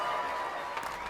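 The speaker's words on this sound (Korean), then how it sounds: "연주가 모두 끝난 후 사람들은 일어서서 환호와 박수를 보냈어요." An audience cheers and applauds after a Beethoven concert, a dense, steady wash of clapping and crowd noise that fills the short moment without a break.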